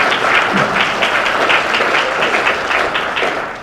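A seated audience claps loudly and continuously for Lord Sumption at a lecture on lockdown, dense applause filling the room with no speech over it.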